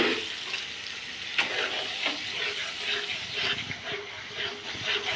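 Blended tomato is poured into a hot pan of frying spices, setting off a hissing sizzle with scattered spatters and stirring clatter, close and moderately loud, with no clear talking.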